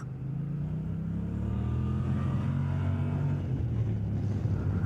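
A steady low engine drone builds gradually, a Kymco AK550 maxi scooter revving up with a rumbling hum throughout, no voices.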